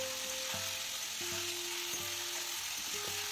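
Potatoes and ridge gourd stir-fried in oil over high flame make a steady, even sizzle close by, with faint stirring touches and no voices.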